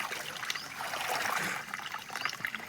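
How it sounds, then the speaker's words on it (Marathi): Irrigation water trickling from a hose pipe into a field, a faint, continuous gurgling flow that swells briefly in the middle. "बराच वेळ झाला एका जागेवर पाणी चालू आहे"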